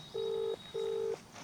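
A telephone rings on a call with two steady electronic tones, each about half a second long and separated by a short gap, clear over a quiet background.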